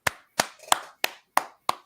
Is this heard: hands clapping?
yes